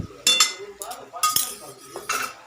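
Pasta goes into a pan of Indian-style masala tempering and is stirred with a spoon, giving several bright metallic clinks and scrapes against the pan between short quiet gaps.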